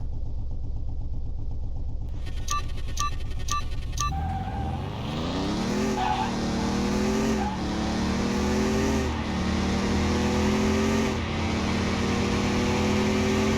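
A BMW engine in the Car Mechanic Simulator 21 video game starts after a few electronic beeps, then revs repeatedly in rising and falling sweeps over a steady idle, loud and close.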